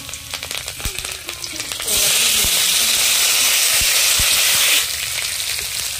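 Garlic, black cumin and chilli hit hot oil in a heated wok, bursting into a loud, close, steady sizzle that lasts about three seconds before easing off, after earlier light clinks and stirring.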